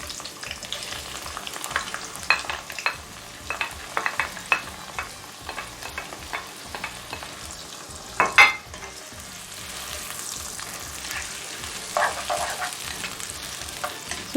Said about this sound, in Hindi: अब इसमें मैं प्याज डालूँगी।